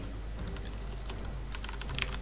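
Rapid clicking of a computer keyboard as a username is typed into a login screen, a steady patter of light keystrokes close by, slightly denser toward the end, with no voices.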